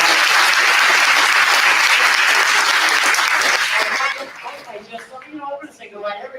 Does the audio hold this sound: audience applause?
yes